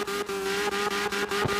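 A race car roars through a tire-burning burnout near a pit at a round 6 qualifying event, its steady high-revving engine drone holding on with tire noise throughout.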